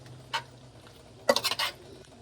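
A spoon stirs pesto through vegetable spaghetti in a pan: a soft scrape, then a short cluster of wet clinks and scrapes against the cookware, close and fairly quiet.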